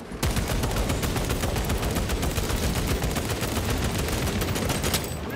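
Sustained automatic cover fire in Warhammer 40000: Space Marine 2, a relentless rapid stream of loud gunshots with a steady rhythm throughout, no voices over it.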